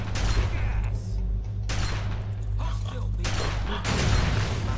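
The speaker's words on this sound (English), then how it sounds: "Let's just lob grenades down there for fun." Plasma grenade explosions in Fallout 3, going off in a steady loud roar of blasts with broadband bursts and rumble throughout, a voice talking over them.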